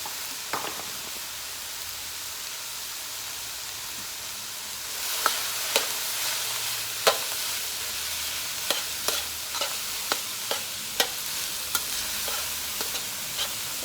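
A greens mixture sautéing in a pan for fried rice gives a soft steady sizzle, joined after a quiet start by sharp, irregular scraping clicks of a utensil stirring close by; no voices.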